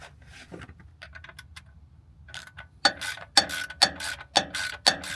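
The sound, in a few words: socket wrench tightening oil filter on Ford Explorer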